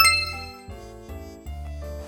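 A device notification alert, kept switched on for an online interview, rings out as three successive bright chime tones, each ringing on with a sustained tail, clear and alone with no talking.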